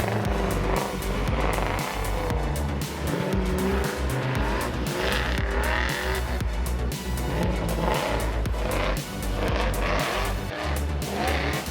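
Drift cars in a chase run at a SupaDrift event, engines roaring continuously at high revs with long tire squeals and skidding, loud and close throughout, with no talk.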